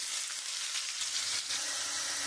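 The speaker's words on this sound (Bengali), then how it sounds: "আমি আলুগুলো একটু লাল লাল করে আমি ভেজে নেব।" Potatoes fry in hot oil with whole cumin and bay leaf for a rajma curry, giving a close, steady, bright sizzle that stays even and unbroken throughout.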